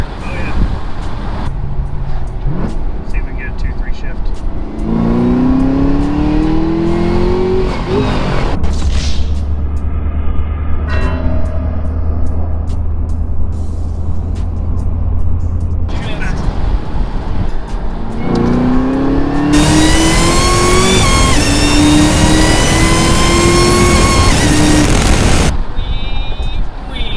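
A supercharged Camaro ZL1 engine accelerates hard through a 2-3 gear shift, rising supercharger whine and roar climbing, dropping at the shift and climbing again, loud and close from inside the car.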